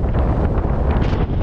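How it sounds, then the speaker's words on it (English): Strong wind blows across a sunny front yard, a loud continuous rumbling gust buffeting the microphone throughout the short clip. "it is really windy"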